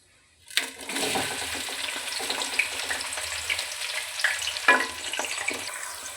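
Onions drop into hot oil with whole spices and burst into a sudden loud sizzle that settles into steady frying, with occasional crackles and stirring scrapes up close.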